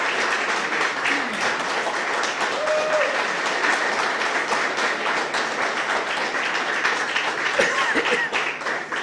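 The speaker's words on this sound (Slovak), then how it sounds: "Poprosím vás o veľký potlesk pre pána Polaka za to, že prišiel do Žiliny." An audience claps loudly and steadily at a book discussion event in Žilina, Slovakia, a dense, sustained applause that fills the whole stretch without letup.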